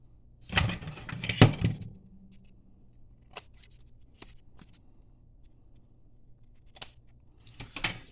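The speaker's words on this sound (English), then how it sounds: "We can just trim that off with some scissors." Scissors snip ribbon on an Easter basket craft, with a cluster of close, crisp cuts early on followed by a few sparse, quieter snips and rustles.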